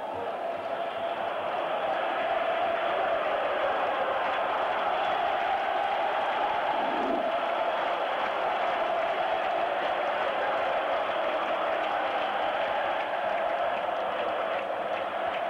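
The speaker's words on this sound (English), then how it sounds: "Noises of triumph floating over the Roman hills." Football crowd roaring in triumph at AS Roma's stadium during a 1983/84 European Cup semi-final against Dundee United, a dense, sustained wall of cheering that fills the whole stretch with steady loudness.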